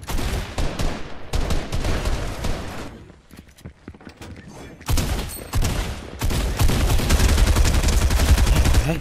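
Revolver gunshots in Fortnite mix into a dense, loud firefight, with rapid bursts from several weapons, a brief lull in the middle, then heavier continuous shooting, and a voice briefly heard under the gunfire.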